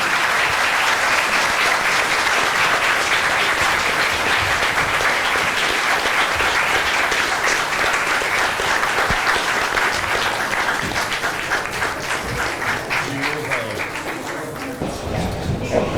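Sustained applause from an audience in a courtroom at a high school mock trial championship, a dense crowd of clapping that runs the whole time and eases a little toward the end.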